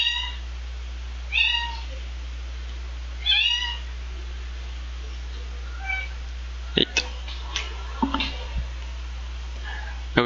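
A pet cat meows two or three times close by in a quiet room, short high plaintive cries spaced a couple of seconds apart, followed by a few soft clicks and taps.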